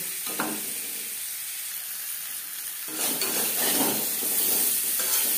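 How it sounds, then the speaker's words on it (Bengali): Potatoes frying lightly in a pan with turmeric and salt, a steady close sizzle that grows louder and busier halfway through, with occasional stirring scrapes and no voices. "পরিমাণ মতো হলুদের গুঁড়ো, লবণ হলুদ দিয়ে আলু হালকা করে ভেজে নেব।"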